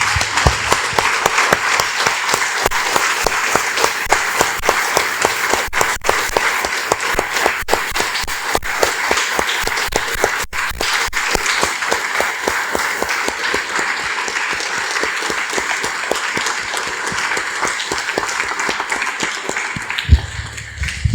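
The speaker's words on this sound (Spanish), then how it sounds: "Damos un aplauso, hermanos, al Señor." A church congregation gives prolonged, dense applause, many hands clapping steadily and loudly for about twenty seconds before it fades out.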